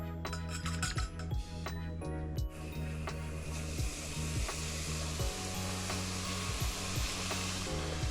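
Golden oyster mushroom pieces fry in hot oil, producing a steady, close, continuous sizzle with faint repeated ticking or clicking running underneath throughout.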